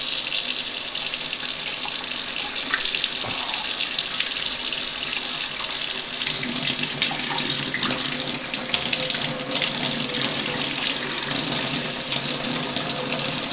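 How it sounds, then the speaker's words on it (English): Tap water runs steadily through the disassembled parts of a Pinter beer dispenser during cleaning, a continuous close hiss and gurgle of flowing water with no talking. "Now the last thing you want to do is just run some water in there."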